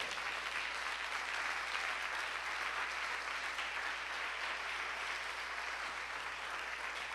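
A church congregation applauds in a sustained, dense wash of clapping from many hands that holds steady and fills the room.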